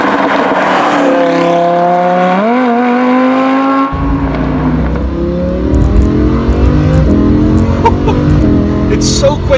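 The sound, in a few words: Lamborghini Huracan accelerating through gears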